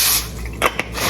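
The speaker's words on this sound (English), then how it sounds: "I take a little pan, put some aluminum foil down. I do a light spray" A light spray of cooking oil onto a small foil-lined pan, a hissing spray at the start followed by two quick soft bursts, close and brief.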